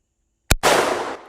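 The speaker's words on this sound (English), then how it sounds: "I've got the .44 Mag in my hands. We all know that the .44 Mag packs a punch, and I'm shooting some 240 grain hollow points" A lever action .44 Magnum rifle fires a single 240 grain hollow point round at an outdoor range, one sharp loud crack followed by a booming echo that fades over a second.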